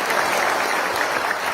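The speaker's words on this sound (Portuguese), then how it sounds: "Vamos pedir uma salva de palmas aí para o secretário." Short burst of audience applause for a secretary at a peanut day event in Glória de Dourados, a dense, steady wash of clapping filling the whole moment.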